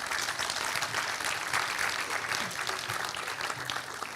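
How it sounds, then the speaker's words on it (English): Audience at an eco-awards ceremony in India clapping steadily, a dense, even wash of applause that holds at full strength from start to finish, with faint voices mixed in beneath. "Let's give them a big round of applause."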